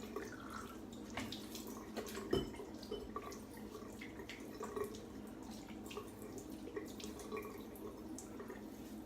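Faint running water and soft splashes of a quick post-shave face rinse at a sink, a steady low trickle with scattered drips and one brief bump, quiet and without talk.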